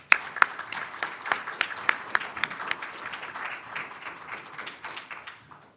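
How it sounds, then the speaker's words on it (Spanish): Audience applause at a panel discussion event, a steady mass of clapping with a few sharp louder claps early on, sustained for several seconds and slowly thinning toward the end. "Y un aplauso para ellos, por favor."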